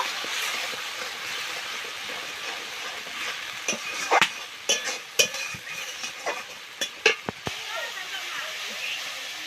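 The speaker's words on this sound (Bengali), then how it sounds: "মশলাটা ভালোভাবে কষে নেব।" Masala spice paste sizzles and fries in a pan while being stirred, a steady broadband hiss broken by a series of sharper scraping clicks and spatters through the middle, with faint voices in the background.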